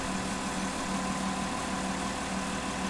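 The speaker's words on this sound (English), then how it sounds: "That's the main load winch." Main load winch driving a hoist on an 850-foot TV tower, heard as a steady, continuous mechanical engine drone with a low hum, constant in level throughout without pauses or changes in pace.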